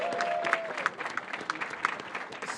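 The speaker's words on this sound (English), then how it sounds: "I want to give you another round of applause." Applause from an audience at a press conference on building affordable housing, a moderate spread of clapping with scattered sharper claps, somewhat distant and steady throughout.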